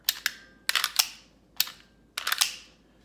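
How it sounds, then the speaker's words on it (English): Sharp metallic clicks and snaps from an M&P Shield pistol with an extended magazine release, as magazines are released and reseated in quick clusters, close and crisp with silence between. "just shoots the mags right out, so there's no problem there"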